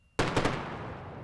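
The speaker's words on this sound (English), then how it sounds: "a sonic boom passes across the Florida Space Coast as the Falcon 9 first stage" A sonic boom from a returning SpaceX Falcon 9 first stage over the Florida Space Coast near Cape Canaveral: a sudden loud double-thump crack that rolls into a long fading rumble, heard alone.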